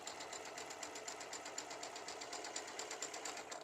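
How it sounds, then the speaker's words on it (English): A sewing machine runs slowly and steadily while piecing a large quilt block, its needle making a continuous, even rhythmic whir with no voices. "I'm going to come back again and then continue to sew as slow as I can."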